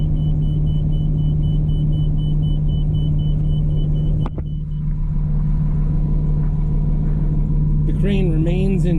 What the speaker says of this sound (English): The truck is now moving.